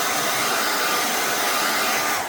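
A hair dryer or heat gun runs steadily and close up, blowing hot air onto an HP Envy x360 laptop screen to soften the bonding behind it; a continuous broadband whoosh with no talk.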